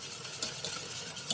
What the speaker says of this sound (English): I will remove it from the heat, and I will whisk it for another 20 seconds